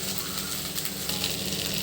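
Okra pieces frying in a pan, with salt added as they cook, give off a continuous soft sizzle heard up close, with no voices.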